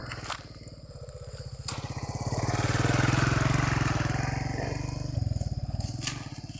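A motorcycle on a rough, muddy rural road in a Mangyan indigenous community passes by, its engine note swelling as it nears and fading as it moves off, with some rattling over the uneven ground.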